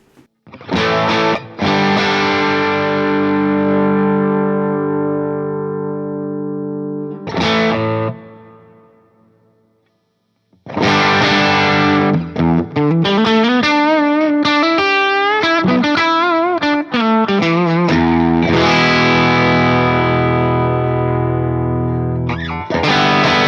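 Sustained distorted electric guitar chords through an Axe-Fx with an overdrive boost engaged, ringing out loud, with a short pause and a bending, wavering passage, heavy overdrive throughout.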